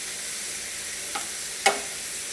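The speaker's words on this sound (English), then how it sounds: "As soon as the beet slices stop sizzling so vigorously" Beet slices fry in very hot oil, giving a steady broadband sizzle throughout with two brief sharper crackles near the end, close and fairly loud with no talking.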